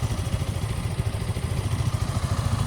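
A Yamaha MT-15 motorcycle engine idles close by with a steady, throbbing low rumble and faint mechanical clatter, with no voices.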